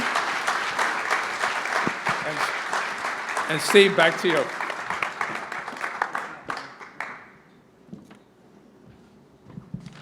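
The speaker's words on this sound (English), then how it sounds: "Let's have a round of applause for" Loud applause from a crowd at a Detroit Pistons event, dense clapping that swells and then thins out near the end, with a voice speaking briefly over it.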